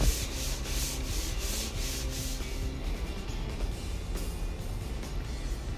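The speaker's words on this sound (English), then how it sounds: "sand it by hand with a sanding sponge" Hand sanding with a sponge, a close, rough rubbing sound in repeated strokes, fading to a softer continuous scrub.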